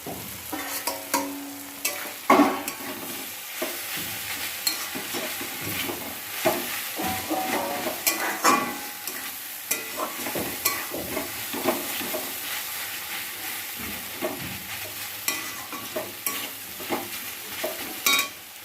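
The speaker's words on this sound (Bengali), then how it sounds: "আর এখন আমি চিংড়ি মাছটাও দিয়ে দিলাম।" Prawns fry in poppy seed paste in a pan, with a steady sizzle broken by repeated scraping and clattering knocks from stirring, close and moderately loud, with no talk.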